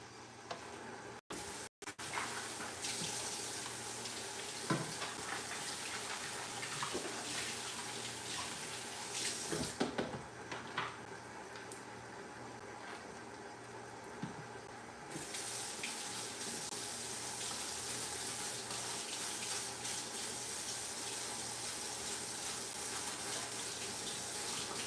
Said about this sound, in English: I'm going to rinse out the molds I know I'm gonna use as I make this with you guys.